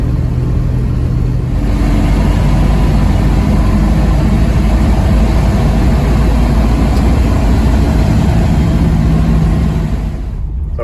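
A Plymouth with a Slant 6 engine and three-on-the-tree manual gearbox cruises at about 55, its engine droning loud and steady with low road rumble from start to finish.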